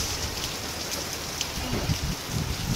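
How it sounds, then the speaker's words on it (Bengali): Heavy rain pounds down in a strong wind, a close, steady rush of drops hitting surfaces, with a few louder splashes and gusty swells and no one talking. "কি জোরে বৃষ্টি হচ্ছে আর কি হাওয়া দিচ্ছে"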